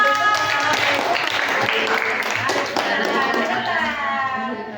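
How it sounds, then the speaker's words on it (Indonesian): Audience applause at an Indonesian literacy discussion event, a dense burst of many hands clapping close and loud, holding steady for several seconds before easing slightly. "Wah, tepuk tangan."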